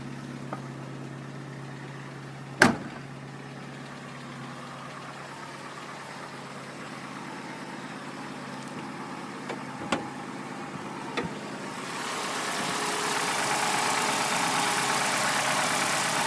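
Car engine idling steadily just after starting on the first turn of the key, a low even hum with a few sharp clicks, and a broad hiss swelling toward the end.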